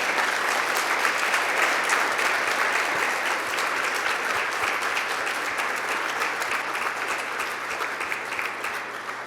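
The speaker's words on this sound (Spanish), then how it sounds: "Denle un aplauso al Señor." Sustained, even applause from a church congregation fills the space, a dense continuous patter of many hands clapping that fades slightly toward the end.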